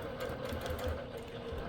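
A longarm quilting machine stitches steadily during beginner ruler work on basic crosshatching, giving a continuous close mechanical hum with a faint rhythmic pulse and no voices over it.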